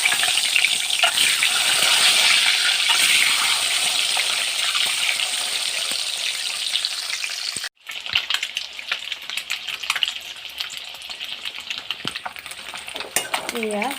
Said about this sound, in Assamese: এতিয়া মই ডিমকেইটা ভাজি ল'ম।